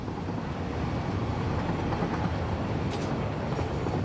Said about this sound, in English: Trains be flying.